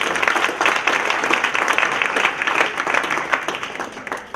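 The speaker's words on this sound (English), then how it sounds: "let's give him a little round of applause" Steady applause from an audience at a community center grand re-opening, many hands clapping together in a dense, continuous wash that holds at even loudness and tapers slightly at the end.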